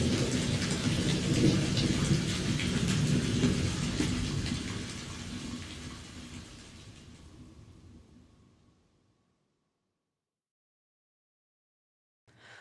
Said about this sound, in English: The rain came in a deluge, isolating them in a wall of water.